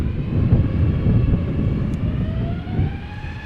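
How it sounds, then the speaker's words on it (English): EasyJet Airbus A320neo jet departing Amsterdam Schiphol, a steady rumbling roar with a faint rising whine, moderately loud at a distance, with no voices. "This is EasyJet flight 22516 going to London Luton, A320 Neo"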